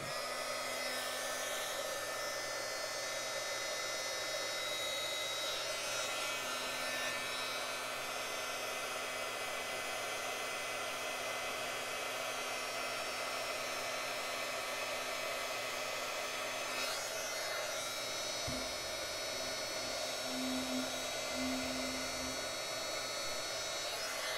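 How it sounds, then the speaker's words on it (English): An embossing heat tool blows hot air to melt gold embossing powder on a stamped bookfold card. A steady, loud, whooshing fan drone runs unbroken throughout. "I'm going to plug in my heat tool, heat it up, and then we will set that gold embossing powder."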